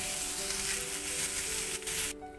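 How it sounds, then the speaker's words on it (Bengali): Sliced onion and garlic frying in oil in a pan over medium heat, a bright continuous sizzle up close that drops away abruptly near the end. "পেঁয়াজ এবং রসুন ভালো করে ভেজে নেব"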